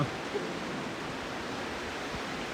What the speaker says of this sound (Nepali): ठुलो बाढी आएको छ नारायणी नदीमा